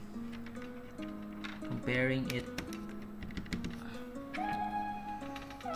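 Typing on a lubed mechanical keyboard resting on a desk mat, dense soft clicks running steadily and close by beneath a person talking over them.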